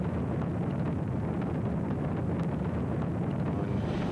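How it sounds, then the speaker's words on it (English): Space shuttle booster ignition and liftoff: a continuous, loud, deep roar with broadband rumble, steady throughout without pauses or voices. "Booster ignition and liftoff."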